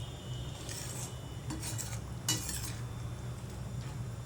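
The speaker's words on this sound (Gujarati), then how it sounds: "અને મિક્સ કરી દઈશું." A spoon mixing paneer butter masala gravy in a pan produces soft, intermittent scraping and light clinks against the metal, fairly quiet over low background noise.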